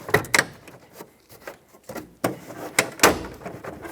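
Plastic interior trim panel on a 1999-2025 Ford E-350 van being peeled away by hand, a series of sharp snaps and clicks as clips release, with soft rustling scrapes between them, close and alone.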